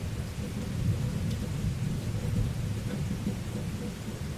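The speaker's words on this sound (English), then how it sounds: "The sound of rain pattered against the window" Steady rain falls beneath a low, rumbling roll of thunder, a dense, continuous wash of sound with the deep rumble swelling and easing throughout.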